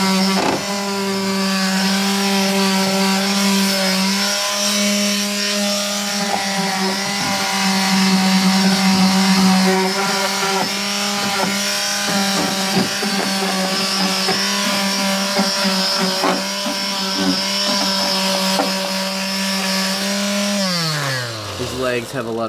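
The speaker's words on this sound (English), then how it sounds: "I make a quick pass at it with my sander" A power sander makes a quick pass over painted shabby chic furniture, its loud, steady motor whine running throughout before winding down at the very end.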